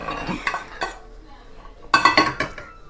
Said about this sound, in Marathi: साईडला ठेवते शेंगदाणे वाटीमध्ये